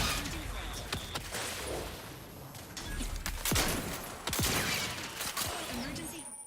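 Player gunfire in the sci-fi game Outer Worlds 2, a dense fusillade of rapid shots with sharp cracks and clattering mechanisms over a steady combat din, and a voice speaking briefly.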